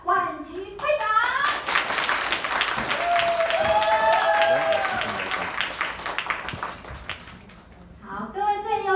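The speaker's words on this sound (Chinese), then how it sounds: "我们用热烈的掌声欢迎" An audience at an association gathering claps warmly to welcome a speaker, a dense, sustained burst of many hands lasting several seconds. Voices call out and talk around it.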